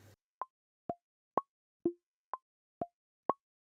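Seven short synth plucks sampled from a Moog DFAM analog drum synthesizer, each a quick percussive blip at a slightly different pitch, spaced evenly about half a second apart and heard alone against silence.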